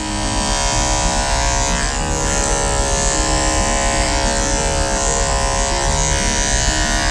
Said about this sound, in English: He's got a 5-speed clipper.